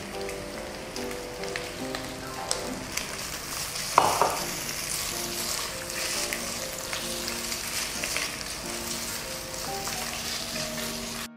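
Pasta fries in a pan with a steady, rain-like sizzle, close and fairly quiet, broken by a brief louder clatter as it is stirred or moved, with no voices.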